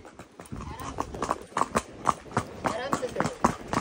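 Hooves of a fast-running horse on a ride at Mahabaleshwar pound in a quick, uneven rhythm of sharp, close, loud beats, with voices talking over the galloping.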